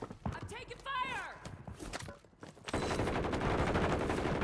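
Video game gunfire in a fast shooter match: sharp rapid bursts of shots, near and loud, turning into a dense continuous barrage in the second half, with a voice talking over the early part.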